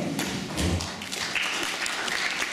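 An audience at a JCR chair hustings applauds a candidate's answer with a dense, fairly close patter of clapping and a few heavier thuds, continuing steadily throughout.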